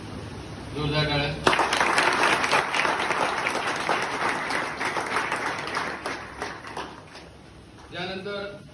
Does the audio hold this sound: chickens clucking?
no